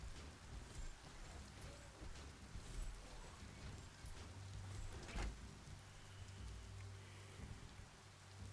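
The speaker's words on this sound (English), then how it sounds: "Hope you enjoy the rain." Steady rain falls on a surface in a soft, continuous patter, with a faint distant rumble in the background and one sharper knock partway through.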